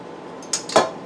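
Drained pulled pork goes back into a crock pot, heard as a few quick clinks and scrapes of utensil against the pot, close and brief.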